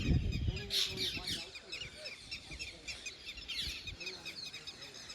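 Faint high chirps and tweets of sparrows scattered over a busy outdoor background at a dam, with a voice talking nearby.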